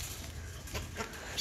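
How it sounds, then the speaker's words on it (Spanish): Soft, short clucks from chickens at a distance, faint and intermittent against a quiet outdoor background. "Vete a ver las gallinas, órale."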